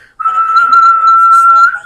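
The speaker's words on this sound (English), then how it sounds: "I just blow the whistle" A single whistle sounds as one shrill, steady tone held for about a second and a half, loud and close, starting and stopping abruptly.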